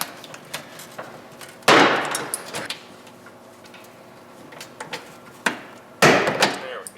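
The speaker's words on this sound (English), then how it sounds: "the last part to removing the inner fenders is to actually pull these 2 Christmas trees. We use a little handheld panel popper" Christmas-tree push-pin clips on a vehicle's inner fender are levered out with a small handheld panel popper: two sharp plastic pops with brief rattling tails, close and loud, separated by quiet light tapping.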